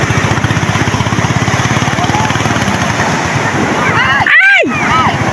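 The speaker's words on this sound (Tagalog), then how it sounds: "Ay ko, nagluloko pang makina." A boat's engine chugs in a fast, steady pulse while big waves surge around it, the motor faltering and sputtering near the end; people talk over the noise.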